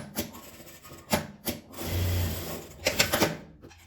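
A sewing machine stitches a small folded fabric strap made from leftover cloth scraps, sounding in short, quiet bursts separated by brief pauses and rubbing noises.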